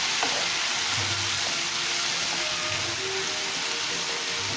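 Cooked horse gram frying in a pan, a steady broadband sizzle and crackle running continuously at close range with no talk over it.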